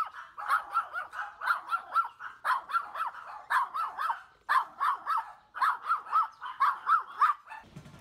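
A dog on a quiet back street in Thailand barks in quick bursts of three or four yaps, repeated steadily with short gaps, fairly clear and close with no talking over it.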